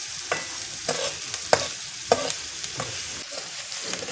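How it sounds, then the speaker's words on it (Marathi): Onions frying in a pan for a bombil masala, a close sizzle broken by rhythmic stirring scrapes and clinks about every half second, with no voices. "चला आता आपला कांदा चांगला लालसर होईपर्यंत परतावून घेऊ आपण"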